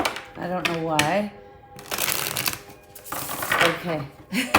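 Cards riffle and snap in quick shuffles, close up, with a person talking over the crisp flutters.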